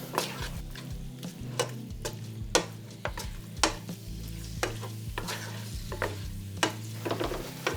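Meat frying in butter in a pan is stirred steadily, with continuous sizzling and crackling under repeated scraping strokes of a utensil. The sound is close and busy and no one talks.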